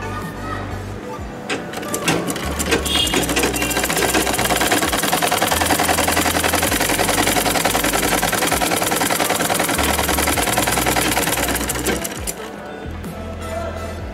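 A sewing machine runs continuously for about ten seconds, back-stitching a crochet neck onto cloth, with a dense mechanical whir that starts and stops amid handling noise.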